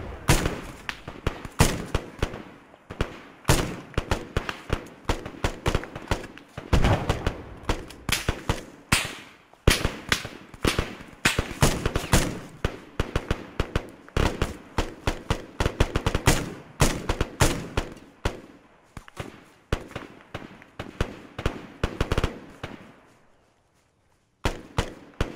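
Dense, rapid gunfire from a squad advancing in Arma 3, with sharp overlapping shots and bursts crackling almost nonstop for over twenty seconds before a brief pause near the end.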